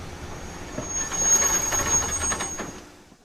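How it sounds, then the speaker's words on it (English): A train pulling into a platform at night, its wheels and brakes giving a steady rumble with a thin high squeal that swells mid-way and then fades as it comes to rest. "Finally, the train stops."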